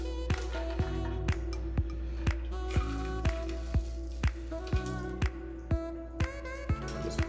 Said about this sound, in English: Just pour that right